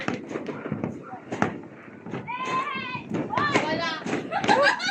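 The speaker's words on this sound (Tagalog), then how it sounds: "Contest natin sa fireworks." Neighbours' New Year 2024 fireworks pop and crackle in scattered bursts, with a few sharper bangs early on, while children chatter and shout close by throughout.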